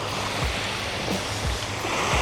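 Sea waves wash onto the shore beside a seaside campsite at dawn, a constant loud rushing hiss with a few soft low thuds as waves break close by.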